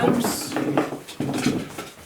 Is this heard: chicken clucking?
no